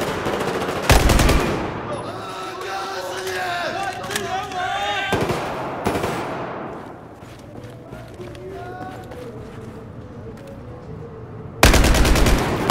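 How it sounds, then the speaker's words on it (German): Gunfire from the Battlefield 4 Singapore map, with bursts of automatic fire and loud single shots over a constant battlefield din, a sharp blast near the start and another at the end, and voices talking throughout. "Ich schieße!"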